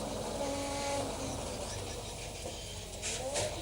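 A touring car at a 1988 British Touring Car Championship race shifts roughly down from fifth to third, the engine note droning steadily with a brief harsh rise near the end, heard from trackside.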